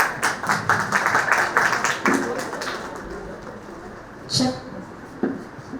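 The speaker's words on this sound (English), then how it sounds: "Please give a big round of applause." A school audience claps at a formal ceremony, a burst of scattered hand claps for about two seconds that thins into a few isolated claps, with a voice speaking briefly.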